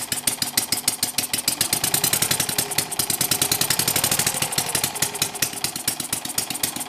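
A model overhead-cam air-cooled engine running steadily with its small cooling fan, giving a fast, evenly pulsing exhaust beat that stays loud and close without a pause.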